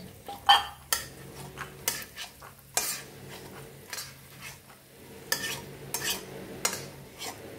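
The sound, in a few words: peanuts being fried and stirred in a pan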